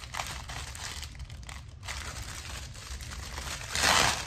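Crinkly plastic rustling and handling of a plastic button envelope throughout, building to a louder, sharper ripping burst near the end as the envelope tears open.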